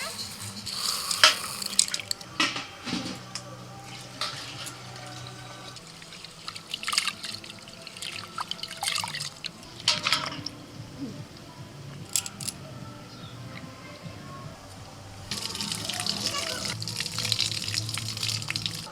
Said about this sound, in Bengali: ছোলার ডাল আর চালটা ভালো করে ধুয়ে নিয়ে দিয়ে দিই।